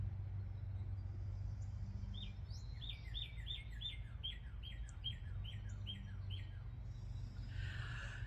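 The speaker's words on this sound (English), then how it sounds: "We looked at the birds. We listened to the birds. We could not see any of the woodpeckers, but we could hear them." Birds chirping outdoors with woodpeckers calling, a run of about a dozen sharp, evenly spaced high calls mid-clip among scattered faint tweets, all over a steady low rumble like distant traffic.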